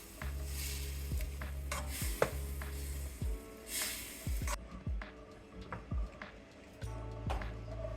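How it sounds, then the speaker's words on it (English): Coconut milk being stirred into a lobster Thai curry in a pan, with soft scraping and clinking of a utensil against the pot over a low simmering sizzle, fairly quiet and close, with no talking. "Coconut milk. I'm gonna mix it up and then let it simmer."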